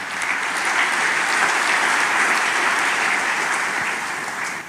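A church congregation applauding during a sermon, sustained dense clapping that holds steady and tapers slightly at the end, loud and close with no clear voices over it.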